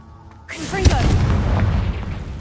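Confringo blasting spell from a Harry Potter video game: one sudden loud blast with a booming low crack, trailing into a rumbling, crackling tail that stays loud to the end.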